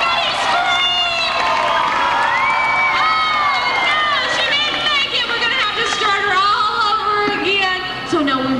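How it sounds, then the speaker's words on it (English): A crowd at Universal Studios in 1993 screams and cheers loudly, with many high voices shrieking and whooping together in a continuous, close wall of sound. "Everybody scream."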